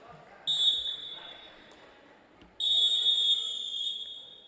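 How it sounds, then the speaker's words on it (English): Referee's final whistle at a women's football match between Perth AFC and Andinas FC, two loud shrill blasts, a short one then a longer sustained one, over steady crowd and stadium background noise. "that there is the final whistle"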